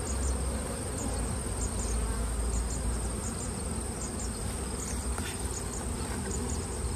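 Honeybees buzz in a dense, steady drone from an open super hive, heard up close with no voices.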